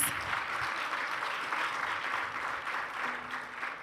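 An audience at a youth-led dialogue event gives the panel a round of applause, a soft, distant, even patter of many hands throughout.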